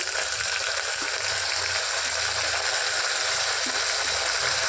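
Steady, dense sizzle of sautéing in a pan while cooking mutton kulambu, continuous and fairly loud for the whole stretch with no voices.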